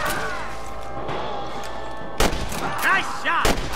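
Loud, separate gunshots crack out in the Western game Red Dead Redemption, three or four sharp reports in the second half over a quiet outdoor backdrop with faint musical tones.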